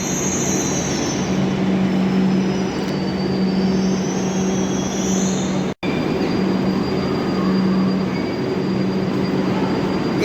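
Kolkata Purple Line metro train arriving at a station on the Majerhat–Joka route, a steady loud rumble of wheels and motors with faint high squeals, continuous for the whole stretch with one brief dropout midway.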